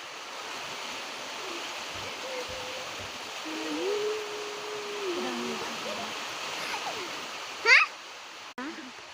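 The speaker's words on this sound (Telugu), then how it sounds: "వాన పడుతుంది. నేను వానలో వీడియో తీస్తున్నాను." Rain comes down outdoors under clouded skies with a steady, soft rushing hiss, while a voice speaks over it and a couple of brief sharper sounds break in near the end.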